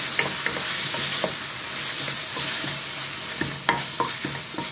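Ingredients frying in oil in a pan while being stirred for a Chinese-style biryani, a steady close sizzle broken by repeated scraping and clinking strokes of the spatula, with no talking.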